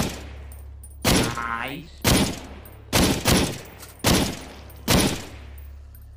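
Shotgun blasts from the VR video game SURV1V3 boom out in a steady series of about six loud reports spaced roughly a second apart, with a brief spoken word between shots.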